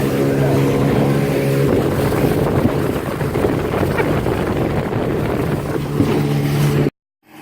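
A boat motors across open water off Jamaica, its engine a steady loud drone with a harmonic hum, mixed with wind buffeting and splashing water, then cutting off abruptly near the end.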